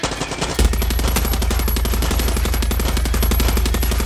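Rapid, continuous automatic gunfire in Far Cry 6 rattles loudly and steadily for several seconds after a brief lead-in, with a thin high electronic tone running above it.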